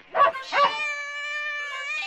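A voice imitates a dog barking with two short, close barks, followed by a sustained whining tone that holds to the end.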